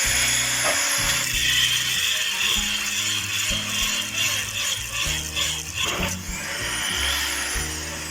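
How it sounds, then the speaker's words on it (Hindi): A single-sided hacksaw blade rasps back and forth through a motor armature in steady, close, loud strokes with a gritty metallic ratcheting texture and no voices. "आरी का ब्लेड चाहिए होगा, सिंगल साइड वाला पत्ते वाला। और फिर अभी हम इसको आर्मेचर को काट लेंगे"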